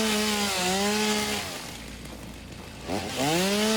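A chainsaw in the video game Satisfactory saws through trees for wood, its whining engine revving, dipping into a lower rumble, then rising sharply again in a second cut, with no talking.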